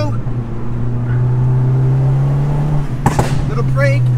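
A Fiat car's engine drones steadily from inside the cabin on the winding Tail of the Dragon road, its pitch rising slightly as it accelerates, with a brief clunk near the end.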